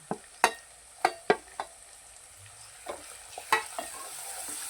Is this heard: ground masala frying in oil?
yes